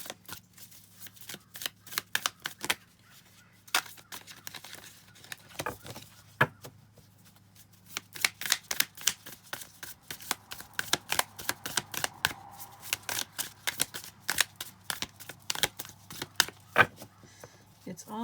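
A deck of oracle cards based on the Tao Te Ching verses being shuffled close by in uneven bursts of crisp flicking riffles, with short pauses between runs and a soft low hum underneath.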